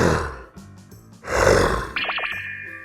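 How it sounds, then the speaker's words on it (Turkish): A jaguar gives deep, rough roars and grunts in two loud, close bursts, followed by a higher, shakier vocal tail. "Jaguar."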